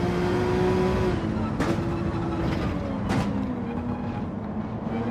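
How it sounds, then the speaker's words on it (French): A Porsche race car in Gran Turismo 7 at a GT World Series celebration race on the Nürburgring, engine droning steadily and loud throughout with shifting pitch as it accelerates, with brief gearchange blips. "Et on accélère tranquille. Elle est bien cette Porsche."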